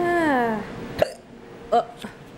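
Two or three distinct hiccups from a person who has just woken up, coming after a falling voiced sound; the hiccups are short, sharp and spaced about a second apart, at close range in a quiet room.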